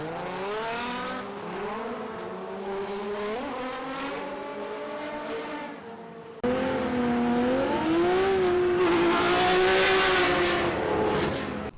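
A drift race car at Orange Show Speedway during an SoCal Am Slam round, its engine revving hard with rising and falling pitch through the corners, loud and close, growing louder midway, with tire noise and no talking.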